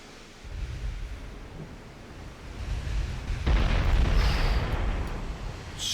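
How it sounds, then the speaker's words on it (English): 20-inch Mark II naval guns firing in a naval warfare game. A deep rumbling boom rolls out, then a second, heavier blast builds into a long roar, with crackling spray and a splash trailing off. "With those enormous 20-inch guns."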